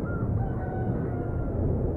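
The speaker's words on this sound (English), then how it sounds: "As a cockerel crowed to signal dawn on the Spanish island of La Palma," A cockerel crows at dawn on the Spanish island of La Palma, a drawn-out call heard over a dense low rumble of background noise.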